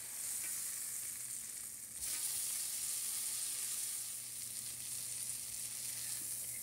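A flat iron steak sizzles in a hot pan for fajitas: a loud, steady, close frying hiss that runs the whole time, with a brief dip near the start and no talking.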